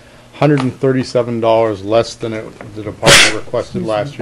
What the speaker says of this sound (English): just because the young man sneezed